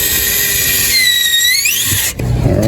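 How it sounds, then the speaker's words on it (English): Power drill driving screws to fix an EV charger's charging-handle bracket to a wall, a close, loud whirring whine whose pitch slides during the run before it drops off abruptly near the end. "just screwing it in and mounting it onto the wall."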